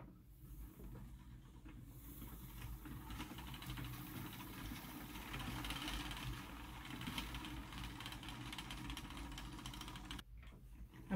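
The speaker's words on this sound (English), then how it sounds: "the country craftsman is a noisy, awful, clackety beast" Country Craftsman spinning wheel working Devon wool, a steady close mechanical clatter and rattling whir running continuously under a faint hiss, stopping briefly near the end.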